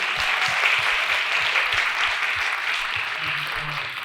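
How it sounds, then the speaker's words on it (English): An audience at an education talk gives Lisa a sustained round of applause, a continuous even wash of many hands clapping at steady volume, with a faint low voice murmuring beneath it. "let's give Lisa a round of applause"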